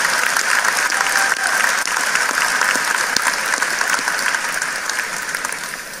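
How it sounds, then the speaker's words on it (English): Sustained, steady applause from a large audience at the 2019 Joplin High School graduation ceremony, honoring a late teacher; many hands clap evenly at full strength and taper slightly toward the end. "Let's give her a big round of applause to show our appreciation for her life's work."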